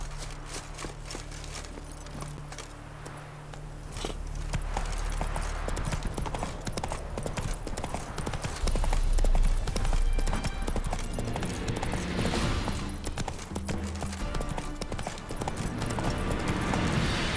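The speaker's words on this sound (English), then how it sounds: "Whoa there, Roach." Horse hooves clip-clop steadily in The Witcher 3 video game, a regular walking rhythm that carries on across the stretch alongside background game sound and music.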